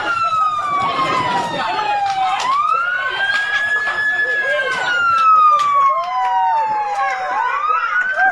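A loud wailing fire truck siren from the Bureau of Fire Protection in Prosperidad, Agusan del Sur, sweeps slowly up and down in pitch, close by, with voices talking over it at a fire.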